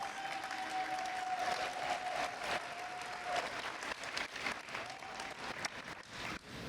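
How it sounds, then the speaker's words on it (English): Audience applause at a high school signing day, a steady wash of clapping from a crowd held at an even, moderate level throughout. "One more round of applause."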